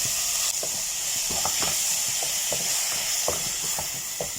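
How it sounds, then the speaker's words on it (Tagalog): Tomato puree going into a pan of vegetables that are already frying, with a steady loud sizzle and hiss. Soft stirring clicks and taps repeat through it. "Lagyan natin ng tomato puree"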